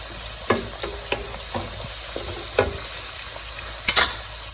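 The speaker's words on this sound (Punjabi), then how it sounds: "ਇਹਨੂੰ ਆਪਾਂ ਥੋੜਾ ਹਰਾ ਫਰਾਈ ਕਰਨਾ ਹੈ ਵਿੱਚ" Green garlic frying in a pan for turnip greens saag, a steady close sizzle punctuated by spatula scrapes and taps, with a couple of sharper clatters near the end, no talking.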